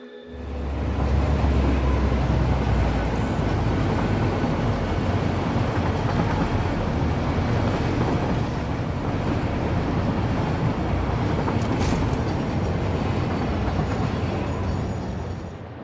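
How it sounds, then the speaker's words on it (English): A train rides along rails in the video game Satisfactory, a loud, continuous rumbling roar that swells in and holds steady for the whole stretch with no voices. "we might as well ride that train because our next stop is just north of us."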